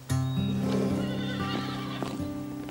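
A horse gives a loud, sustained whinny close by while hooves clip-clop underneath, continuing steadily for a few seconds.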